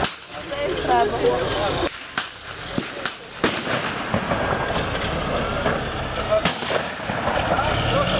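Rapid bursts of automatic cannon fire and booming blasts crack through a battle reenactment in Lutsk, with sharp reports in quick succession and people shouting in between.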